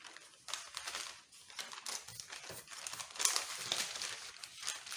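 Fabric for a shirt collar being folded inward by hand, soft close crinkling and rustling in irregular bursts, quiet and without talk.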